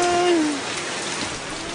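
Steady rain hisses evenly across the whole stretch, a broad wash of falling drops outdoors on a cold evening, with a short tonal sound at the start fading under it.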